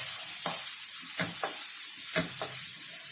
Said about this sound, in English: And then goes in our diced potatoes. We give all of this a good mix